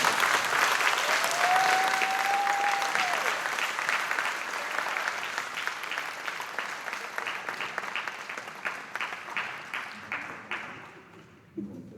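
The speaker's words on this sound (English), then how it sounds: "Let's give another big round of applause." A school assembly audience gives a big round of applause during a Black History Month event, steady and full at first, then thinning into scattered claps that fade out near the end, with a brief whistle early on.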